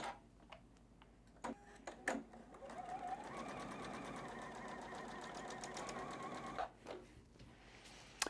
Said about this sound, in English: So I'm just gonna go ahead and stitch just like I did before.